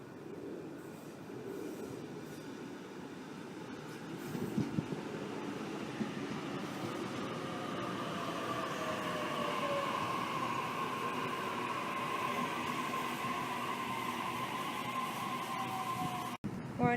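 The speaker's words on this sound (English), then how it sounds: "Waratah now departing for City Circle service." A Sydney Waratah electric train pulls out of Erskineville station on a City Circle service. It rumbles loudly and steadily, with rising motor whine and high wheel squeal, and a sharp click near the end.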